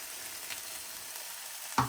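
Keto handi frying in a pan with low fat cream, a steady soft sizzle with a brief louder stir or clatter near the end, no voices.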